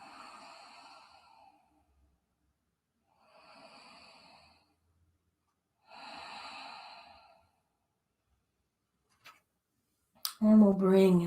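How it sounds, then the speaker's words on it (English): Three slow, even abdominal breaths during a home yoga practice. Each is a soft, airy exhale separated by quiet pauses. A voice briefly starts at the end. "Abdominal breath."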